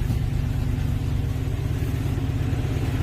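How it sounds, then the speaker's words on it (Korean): A limited-edition 2021 GMC Sierra Harley-Davidson Edition pickup truck idles with a deep, steady exhaust rumble, a continuous low throb heard up close with no talking. "배기음 소리가 장난 아니에요."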